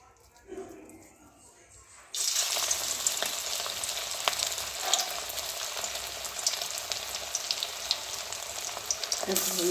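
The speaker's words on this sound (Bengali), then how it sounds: "এবারে খালি এরকম ডুবো তেলে ভাজবো" Food dropped into very hot oil for deep-frying, bursting into a loud, dense, crackling sizzle that runs steadily after a quieter start, with faint handling noises before it.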